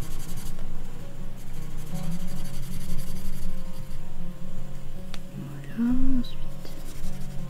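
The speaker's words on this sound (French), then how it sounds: "Colorier toute la zone." Colouring in a colouring book, with the soft scratch of strokes filling an area close by, partly under someone speaking briefly in French.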